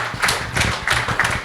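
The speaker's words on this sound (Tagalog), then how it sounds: "Isa pong malakas na palakpak para po sa ating mga kapatid na ikinasal" Guests at a wedding ceremony clap for the newly married couple, giving a steady run of hand claps that comes in regular, evenly spaced bursts across the clip.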